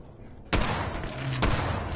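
Two sharp, loud gunshots from the video game Fallout 4 on PS5 ring out about a second apart, each followed by a lingering noisy reverberation.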